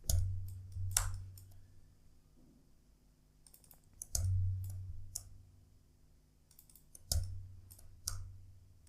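Mouse clicks while selecting edges of a barrel model in 3D modeling software, sharp isolated clicks in small clusters, some doubled, spaced a few seconds apart over a quiet low hum.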